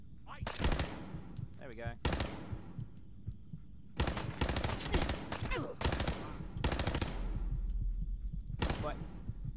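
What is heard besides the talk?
machine gun fire in Fallout 4 video game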